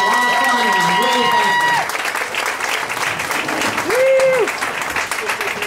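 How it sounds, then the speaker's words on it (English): A crowd applauds Tyler Ryan at a campaign kickoff at Hudson's Smokehouse, a dense, steady clapping that fills the room, with voices and calls ringing out over it. "Let's all give Tyler Ryan a big round of applause."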